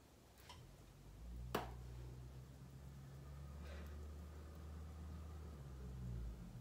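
Cars passing outside a house make a steady, muffled low rumble that stays in the background throughout, with a sharp tick or two near the start.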